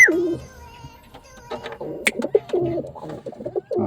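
A pigeon named Black cooing close by, several soft throaty coos in short rhythmic bursts, mixed with faint handling noises and a few sharp clicks.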